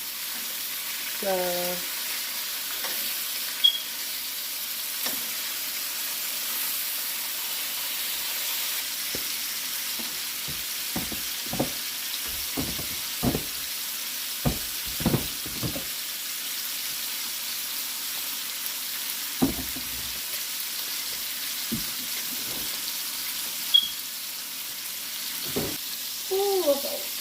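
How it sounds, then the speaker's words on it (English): Bacon crisping in a pan beside a seafood and potato dinner gives a steady soft sizzle throughout, broken by clinks and taps of utensils, with a brief voice at the start and another near the end. "The goal is for the bacon to be very, very crispy."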